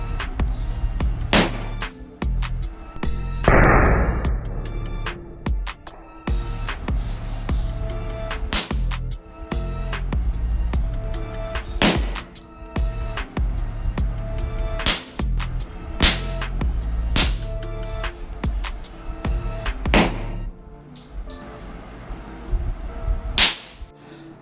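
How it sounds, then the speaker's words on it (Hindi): Overvolted electrolytic capacitors pop like firecrackers, a series of sharp loud cracks and snaps scattered irregularly, with one longer hissing burst early on. "पटाखे की तरह फट रहे हैं"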